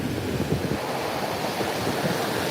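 Ocean surf washing over loose sand at a beach, a steady broadband rush of breaking water with soft low rumbles, close and continuous with some wind noise and no voices.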